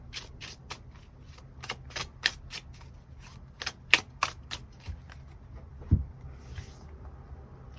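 Tarot cards being shuffled by hand: a soft, rhythmic series of papery slaps and riffles, about two per second, close and fairly quiet, with no talk over them.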